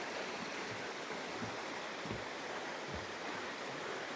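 Steady rushing water fills the scene, a broad constant wash from a stream running nearby in a ravine by a remote forest lake, with no voices.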